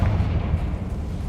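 A Confringo blasting spell in a Harry Potter video game goes off as a short, heavy, low rumbling boom that fills the moment and then fades, with no talking over it.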